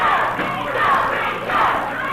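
A wrestling arena crowd in Memphis hollers and yells in continuous, rising-and-falling waves, loud and close throughout.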